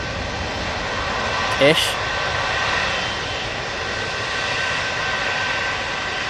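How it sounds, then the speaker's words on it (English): An Etihad airliner departs Manchester Airport for Abu Dhabi, a steady loud jet engine rumble and roar that holds throughout, with a brief voice cutting in near the start. "And the Etihad is now here, going back to Abu Dhabi"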